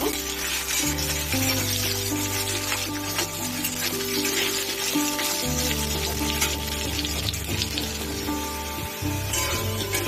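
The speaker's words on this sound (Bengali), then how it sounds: "আলুগুলো বেশ ভালো করে লাল লাল করে ভেজে নেব" Cut potatoes sizzle and fry in hot oil in a pan until browned, a steady broadband crackle with low music-like tones running underneath throughout.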